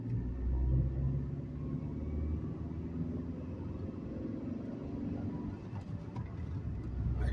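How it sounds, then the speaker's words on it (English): A manual car engine pulls in third gear up to about 40 mph, a steady low rumble with road noise throughout, loudest near the start and easing slightly later on. "I got up to 40 miles an hour in third gear and then shifted directly into fifth"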